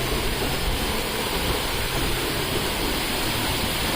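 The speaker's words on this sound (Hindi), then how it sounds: "देखो कहाँ से तो गिर रहा है भाई पानी, और कितना ही गिर रहा है" Waterfall in a jungle pouring heavy volumes of water over slippery rocks, a loud, steady broadband roar filling the scene without pause.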